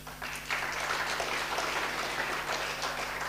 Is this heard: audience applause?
yes